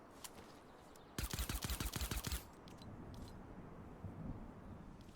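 Rapid burst of suppressed pistol shots from a Fortnite silenced pistol, about ten sharp muffled reports in quick rhythm, fairly close and standing out over a low ambient game background.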